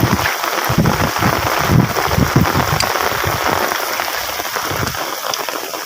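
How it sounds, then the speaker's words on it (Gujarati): A heavy downpour drums down over cotton fields in rural Gujarat, a loud, dense, constant roar of rain on surfaces with irregular thumps of water close by, lasting throughout without talk. "ફિલહાલ પડી રહ્યો છે આવો ખતરનાક વાળો વરસાદ"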